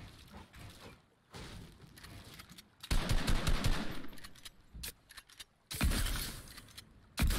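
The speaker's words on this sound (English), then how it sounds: "Ta shotgun ima tako ful delaya." Shotgun blasts in a video game ring out as several loud, broadband bursts with pauses between them, the heaviest reports arriving near the middle and the end.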